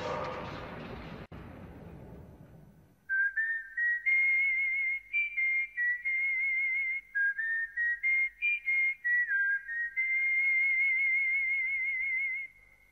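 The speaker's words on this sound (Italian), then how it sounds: "Tutti ricordiamo questo magnifico fischio, ma tutti ricordiamo questa magnifica melodia" A whistled film melody plays as a clear, sustained solo whistle that rises and falls through a lilting tune, following a brief noisy burst at the start.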